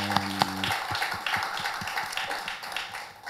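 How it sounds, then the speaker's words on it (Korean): A church congregation claps, with scattered claps tapping out a rough rhythm under a fading sustained organ or keyboard chord at the start, moderately close in a worship hall. "우리 살아계신 하나님께 영광의 박수 올려드리겠습니다"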